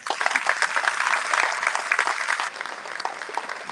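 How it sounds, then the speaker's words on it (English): An audience gathered from several higher-education institutions claps steadily in a dense, lively burst of applause that eases off slightly toward the end. "give yourselves a big round of applause"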